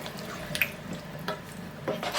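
Tap water runs briefly while extra water is added to a pot of chopped tinned tomatoes during home cooking, a steady close splashing stream with a few sharper drips and no talk.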